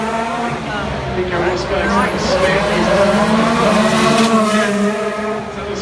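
Formula 1 car at the 2016 Singapore Grand Prix, engine droning loud and steady with rising and falling pitch as it runs through the final turns, heard under commentary.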